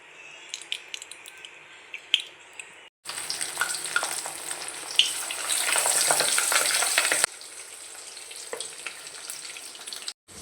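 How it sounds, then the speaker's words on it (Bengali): Fish rubbed with salt and turmeric frying in a pan: steady crackling sizzle that jumps louder partway through, then settles to a quieter spitting fry with scattered pops, with no voices. "মাছটা ভাজবো"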